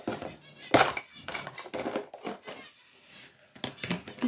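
Small scissors snip through a thin paper strip during a craft project making a little Easter car with a bunny. The crisp cuts come in short, irregular bursts, close by and fairly quiet, with pauses between them.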